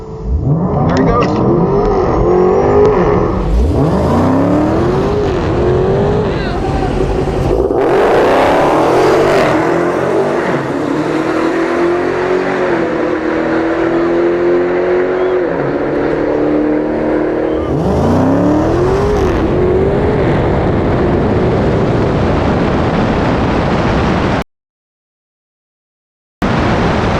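A Tesla Plaid and a supercharged Hellcat launch side by side down a quarter-mile drag strip, loud engine roar and rising revving sweeps through repeated gear changes, with crowd chatter and voices underneath, ending in a brief dropout.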